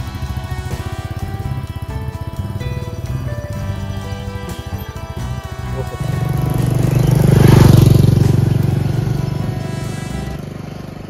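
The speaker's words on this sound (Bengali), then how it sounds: "And this is my bike, Royal Enfield Meteor 350cc Firewall Black variant." A Royal Enfield Meteor 350cc motorcycle, Firewall Black variant, rumbles steadily while riding, its engine note building louder midway as it picks up speed and wind rushes past, with no talk over it.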